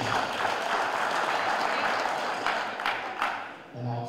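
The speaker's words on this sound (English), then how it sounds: "give a big round of applause for" An audience at a tournament applauds the referees: steady, dense clapping from a crowd that runs for several seconds, then trails off as a voice comes in near the end.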